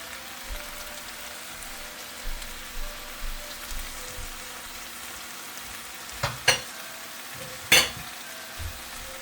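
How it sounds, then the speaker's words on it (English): Squash tipped into chicken stewing in a pot for a Caribbean stew and stirred, giving a steady low sizzle broken by a few sharp clicks and scrapes of the spoon, loudest near the end. "I'm adding in the squash."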